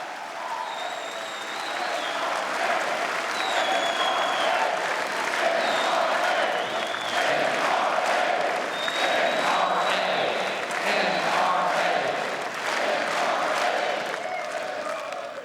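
A large crowd at an NRA-ILA leadership forum applauds and cheers at length, with sustained heavy clapping and shouts and whistles rising through it.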